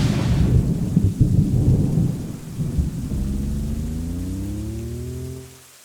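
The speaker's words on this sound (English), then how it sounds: "Rain for days. A monsoon. The bottom fell out." A downpour of heavy monsoon rain roars steadily, with low thunder rumbling through it and a deep drawn-out roll that fades near the end; no one speaks.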